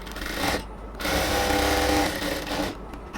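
A sewing machine runs close by, stitching a strip for a pant salwar in two steady bursts of motor and needle whir with a short pause between them.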